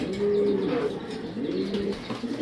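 A Ludo male pigeon coos nearby, a deep throaty rolling call repeated twice with a short pause between.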